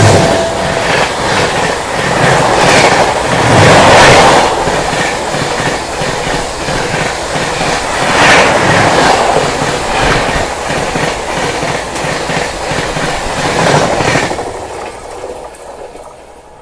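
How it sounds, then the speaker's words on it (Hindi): Rajdhani Express 12424, New Delhi to Dibrugarh, races past on the down main line at 130 km/h, a loud roaring rush of fast clickety-clack wheel rhythm with periodic surges, dropping away sharply near the end. "सामने से आ रही है दोस्तों train number 12424 new Delhi Dibrugarh down main line से फ्लैट 130 पे राजधानी"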